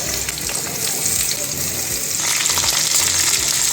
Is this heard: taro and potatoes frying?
yes